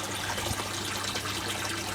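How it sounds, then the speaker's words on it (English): Water draining from an aquaponics grow bed through a bell siphon into a fish and lily pond, a steady continuous trickle and gush of falling water, close and moderately loud. "It pumps water up into the bed, that empties back down in there, nice and clean water."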